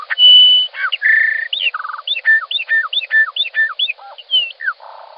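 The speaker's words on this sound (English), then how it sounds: "he actually transcribed a song sparrow that sang a song pretty similar to this" Song sparrow song played back through a speaker: a clear, loud run of sweet whistled notes, a buzzy trill and a rapid series of repeated chirps, with no voices over it.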